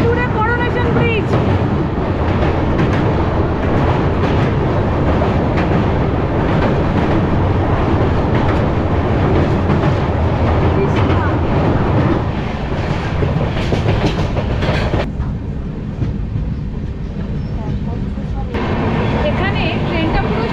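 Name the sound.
Kanchan Kanya Express train running on the rails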